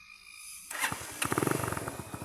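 A Rusi DL150 motorcycle engine cranks and catches after a quiet start, then settles into a close, loud, pulsing idle with a steady rhythmic beat.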